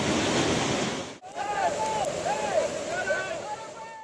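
Flash floodwaters surge through the city streets of Nogales, a dense, continuous rushing roar that briefly drops out, then resumes with faint wavering tones riding over the churn.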